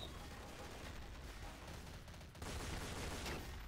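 Sustained gunfire in Counter-Strike: Source, a dense rapid burst that pauses briefly and then resumes, heard quietly and without talk.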